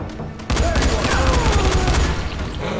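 Gunfire in the zombie video game Dying Light: a loud burst of rapid shots breaks a brief quiet, then heavy firing and booming continue nearby over a dense rumble.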